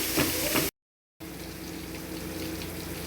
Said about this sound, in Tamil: தக்காளி வதக்கணும்.